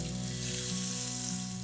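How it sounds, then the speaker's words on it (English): Beef rendang bubbling in freshly pressed coconut milk in a pot, a constant close sizzling simmer with a soft hum underneath, no speech. "And now we're just gonna let it sit here and bubble away."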